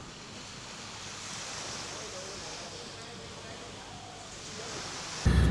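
Steady surf washes onto a sandy, palm-lined beach on Koh Samui, Thailand, in a continuous soft roar, with wind hissing around it and a sudden bump at the end.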